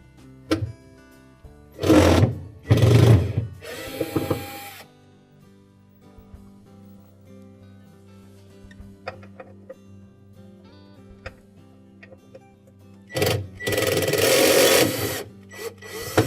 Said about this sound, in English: we're going to remove the two mounting screws that secure that bracket to the fan housing.